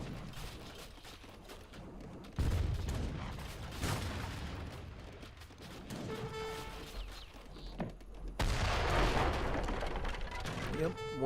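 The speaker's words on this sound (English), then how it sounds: "Mortar's doing a great job there in the back. Just sieging it from long range." Mortar fire in the game Age of Empires 3 brings several heavy booms at intervals among rumbling battle noise and clanks, with a voice talking over it.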